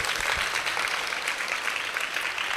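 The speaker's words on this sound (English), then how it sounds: "clap for yourselves" An audience claps continuously, a dense, steady patter of many hands filling the whole stretch at an even level.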